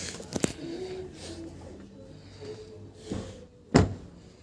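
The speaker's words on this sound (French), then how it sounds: "écoutez-moi le bruit des portes" Door of a 2024 Peugeot 3008 GT 1.2 Hybrid shutting with a solid, close, heavy thump near the end, preceded by a few lighter handling clicks and quiet rustling.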